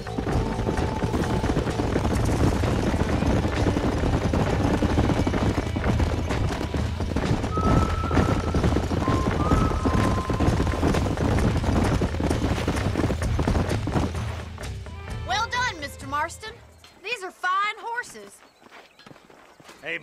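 Horses clip-clopping and galloping in the Red Dead Redemption video game, hoofbeats running under steady music and ambience for most of the stretch, then thinning out near the end as short voices or whinnies take over.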